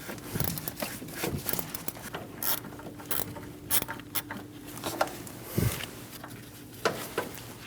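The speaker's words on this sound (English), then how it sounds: "we're going to remove the nuts on either side of the master cylinder" A socket wrench ratchets off the nuts on either side of the master cylinder of a Chevrolet Express 2500, giving quiet intermittent clicking bursts and metallic clinks with pauses between turns, close by.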